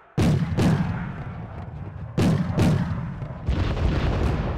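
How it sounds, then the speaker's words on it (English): Mortar fire in the Wargame: Red Dragon video game, aimed at a BTR-50, lands as three loud booming blasts. Two come close together, and a third follows about two seconds later, with rumbling decay between them and no talk. "Bringing in the mortar fire onto the BTR-50"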